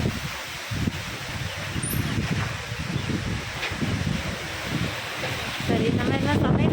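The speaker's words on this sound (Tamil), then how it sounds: "காற்று சவுண்ட் அவங்களுக்கு கேட்குன்னு நினைக்கிறேன்" Wind blowing outdoors by a house as rain threatens: a steady broadband rush with gusty rustling and microphone buffeting that grows stronger toward the end.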